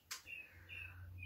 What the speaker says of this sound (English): If you can hear that, that's birds.